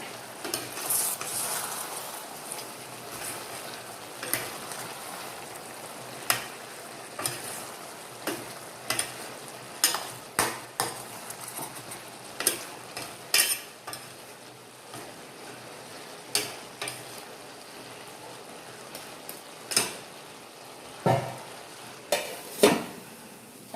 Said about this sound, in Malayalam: നമുക്കൊന്ന് ഇടയ്ക്കൊന്ന് ഇളക്കി കൊടുക്കാം